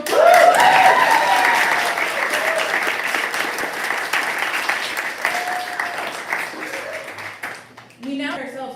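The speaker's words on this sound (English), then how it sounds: "Round of applause." Audience applause for former board members at a summer poetry gathering: dense, sustained clapping from a large crowd, loudest at the start and gradually thinning, with some voices mixed in before it fades near the end.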